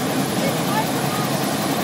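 A helicopter at an air ambulance base open day, a steady loud rotor and engine drone running without a break, heard close by.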